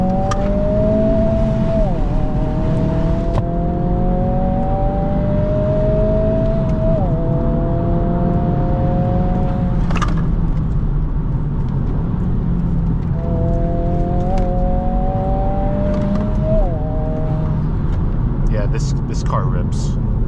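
A Honda Civic Si with a 1.5-litre turbo engine accelerates hard, its rising engine note dropping sharply at each gear change before climbing again. The sound is loud and continuous, with someone talking over it.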